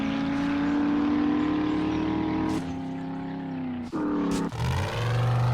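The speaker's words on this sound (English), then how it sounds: "this car it rides exactly like an old Mustang" A car in the 7 Days To Die survival game, likened to an old Mustang, drones with a steady engine hum that shifts pitch a few times as it drives on.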